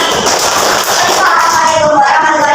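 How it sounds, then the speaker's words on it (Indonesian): A classroom audience of teacher trainees applauds a student group during presentations, a dense and steady burst of many hands clapping at close range for about two and a half seconds, with voices mixed in. "Tepuk tangan buat kelompok lagi"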